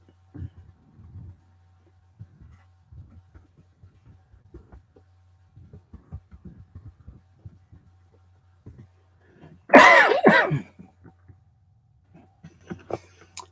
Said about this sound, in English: I'd be all right, Josh, if I could just get rid of this damn cough